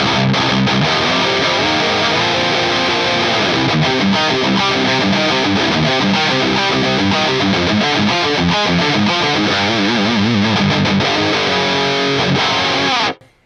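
Heavily distorted electric guitar through an Axe-Fx III amp model with a T808 boost in front, playing dense, loud, chugging riffs continuously before cutting off abruptly at the end.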